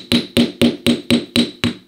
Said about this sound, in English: I think you need to use the hammer on it.